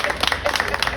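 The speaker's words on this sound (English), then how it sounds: "Clap hands for him," A small audience claps hands, a brief patter of quick, uneven claps under a voice talking.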